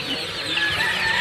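Chickens cluck and chatter together in a caged poultry section of a pet market, a dense close flock with layered calls and no speech.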